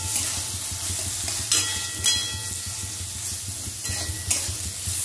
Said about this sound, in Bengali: লবণ আর হলুদ দিয়ে আবারও বেগুনটাকে একটু ভেজে নিতে হবে।